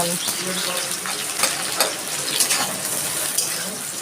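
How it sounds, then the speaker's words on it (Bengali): Onions fry in a pan for mutton curry with a continuous crackling sizzle, broken by occasional scraping and clinks of stirring, with some talking underneath. "পেঁয়াজটা একটু লাল লাল করে ভেজে নেব"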